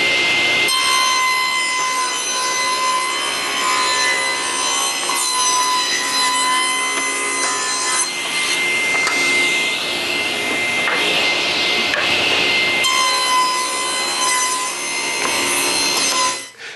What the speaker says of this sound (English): While I'm at the table saw, I might as well cut the 4-inch apron section